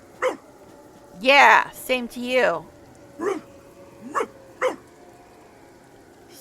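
A zombie dog in the video game Divinity: Original Sin gives several short, sharp barks and yips, spaced irregularly, while someone talks over them.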